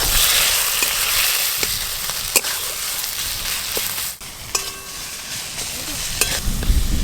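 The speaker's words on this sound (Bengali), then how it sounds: "মশলা এরকম করে কষে নেবেন আপনারা" Spices and chopped tomato fry in a pan for a fish curry, with a constant close sizzle broken by several sharp clinks and scrapes of stirring.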